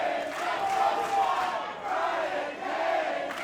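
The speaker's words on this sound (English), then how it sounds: "As this crowd split seemingly down the middle, maybe 60-40 in favor of Cage." A wrestling event crowd roars and cheers in a steady, loud wash of many voices, swelling and dipping slightly across the whole stretch with no break.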